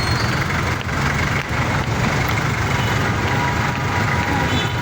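A bus engine idles at a bus terminal, a steady low rumble with broad noise, continuous and fairly loud with no clear speech over it.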